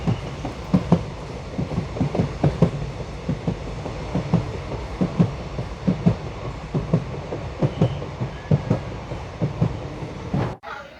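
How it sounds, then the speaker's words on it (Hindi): A train rolls from the Pamban bridge toward Mandapam station in India, its wheels beating a steady clickety-clack over rail joints in regular paired knocks under a continuous rumble, close and fairly loud throughout. "अब हमारी ट्रेन बढ़ रही है मंडपम स्टेशन की तरफ।"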